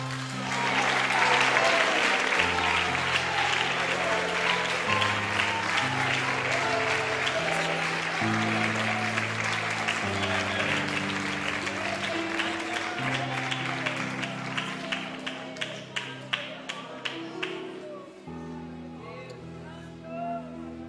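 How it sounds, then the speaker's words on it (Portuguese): Sustained applause from a church congregation during a Brazilian worship service in Campina Grande, loud and dense for most of the clip, thinning toward the end with steady organ or keyboard chords playing underneath. "Aplauda ao Senhor nesta hora."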